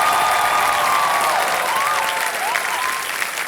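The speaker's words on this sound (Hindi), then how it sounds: "जोर से आपने ताली बजाई सर।" A studio audience on a TV quiz show applauds steadily and loudly throughout, a dense, continuous wash of clapping with faint tonal sounds over it.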